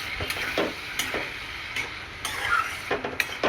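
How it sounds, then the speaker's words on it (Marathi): A spatula stirs bitter gourd curry with a lump of jaggery in a pan, giving a soft sizzle under repeated scraping and tapping strokes at an uneven pace, close by, with no talk. "आता याला छान असं मिक्स करून घ्यायचं आपल्याला"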